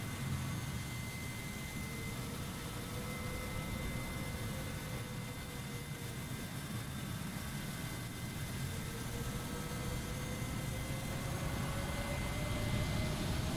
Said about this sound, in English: if you now would go outside, you will see that the aircraft is being pushed back